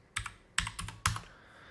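Computer keyboard keys are struck three times in quick, sharp clicks, the last a firmer press like the enter key, close and clear with no talk.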